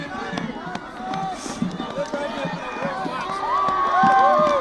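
High school playoff football fans stand and cheer in the stands as the crowd's roar builds toward the end, with voices shouting and whistling over it.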